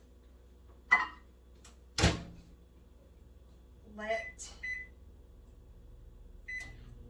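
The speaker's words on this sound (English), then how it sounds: "So I'm going to put it in the microwave right now" A kitchen microwave oven is shut with a sharp door thump, then runs quietly to melt butter for a sweet potato casserole, with a few brief beeps and someone talking nearby.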